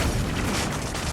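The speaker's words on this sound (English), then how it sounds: "A massive explosion engulfed the entire Area 51" A massive explosion engulfs Area 51 in an alien invasion film, a loud dense roaring blast that fills the whole moment without a break.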